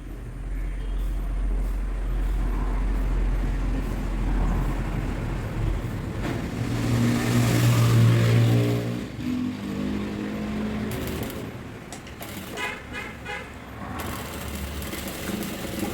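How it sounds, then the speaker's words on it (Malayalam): A sewing machine stitches along the side seam of a kurti, running as a steady mechanical whir. It continues for most of the stretch, with a louder, more tonal run in the middle. No one speaks. "അവിടെ പിന്നു വെച്ച് കുത്തി കുത്തിയതിന് ശേഷം നമ്മൾ തയ്ക്കുകയാണ് അതിൻ്റെ സൈഡിൽ കൂടെ"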